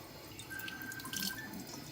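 Tap water rinsing over a sanded tumbler during prep for a base coat, a steady close splashing stream running alone without talk.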